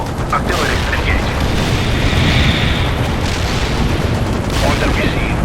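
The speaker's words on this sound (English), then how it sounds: "Artillery engaged." An artillery strike explodes in the real-time strategy game World in Conflict, a loud, continuous barrage of rumbling booms and crackling blasts that fills the whole stretch without a pause.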